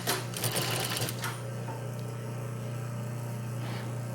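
A sewing machine topstitches fabric with a steady low motor hum and fine rapid stitching clatter, close by; a few brief handling sounds occur early on.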